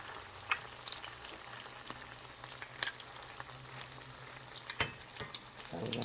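Salmon croquettes frying in a pan give a steady close sizzle with scattered pops and spatters and a few soft scraping knocks from stirring, no talk.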